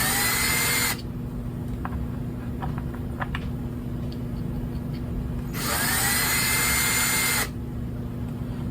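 Cordless drill chamfering 223/5.56 brass cartridge cases, a steady high-pitched motor whine that drops into a lower, scraping grind as cases are worked, then rises again, close and loud with no talking.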